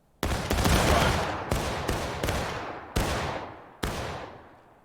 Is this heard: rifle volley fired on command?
yes